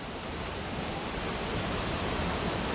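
Waterfall spray roars as a steady, dense broadband wash, close and constant throughout with no talk over it.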